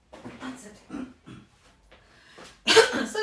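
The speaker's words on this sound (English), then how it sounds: "don't tell me this cough's coming back" A cough bursts out loud and close at the end, after a stretch of soft talk and breathy vocal sounds.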